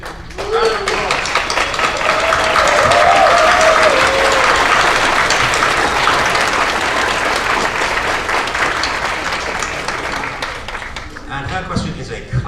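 A convention crowd at a voice actors panel claps loudly and continuously, a thick wash of applause with a few cheers that tapers off near the end as a voice returns.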